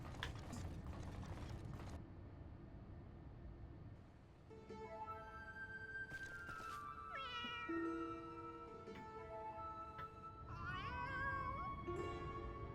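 Cats meow during a Final Fantasy 14: Heavensward cutscene, several drawn-out calls over a mechanical ratcheting and grinding game soundscape, fairly quiet overall.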